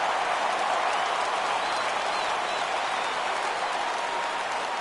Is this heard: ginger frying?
no